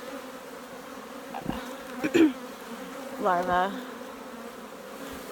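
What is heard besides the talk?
honeybees buzzing in an open hive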